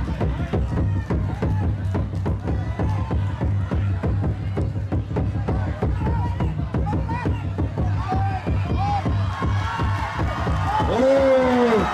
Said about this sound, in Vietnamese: bà con nhân dân cho một tràng pháo tay đi để cổ vũ cho anh Đô